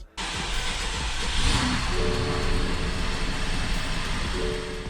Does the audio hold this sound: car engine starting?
yes